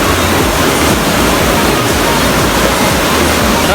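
Kulaman waterfall, the third waterfall on Mt Sapinit, roars as a steady, dense rush of falling water close by, continuous and loud throughout with no pauses.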